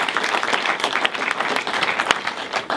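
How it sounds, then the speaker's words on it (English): Gallery audience applauding at an evening visiting-artist talk, a dense, steady burst of many hands clapping nearby for about three seconds with scattered sharper claps. "So could we just give everyone a round of applause?"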